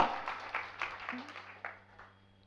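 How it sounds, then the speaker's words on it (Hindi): Audience at a Jain spiritual discourse clapping in scattered, uneven bursts that gradually thin out and fade, with a low steady hum beneath. "ताली तो बजा रहे हो"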